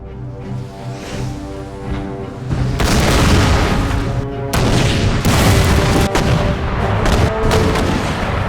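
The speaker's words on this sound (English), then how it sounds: "The battle began with a huge artillery duel. For 3 hours, each side endured a fierce bombardment." Heavy artillery bombardment in a Total War battle recreating the 1880 Battle of Maiwand between British and Afghan forces: a continuous roar of booming cannon fire and gunfire, growing louder and denser after the first few seconds, with no voices.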